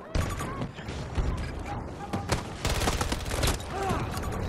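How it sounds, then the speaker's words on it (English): Gunfire in the Battlefield 2042 video game: loud, dense bursts of rapid shots and booming impacts fill the whole stretch with barely a pause, swelling into heavier volleys toward the end. "This gun is so anemic at that range. I hit him with like 12 bullets."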